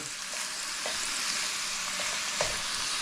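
Chicken pieces weighed down in a pan fry with a steady, dense sizzle throughout, punctuated by a few faint crackles and pops, close and even in level.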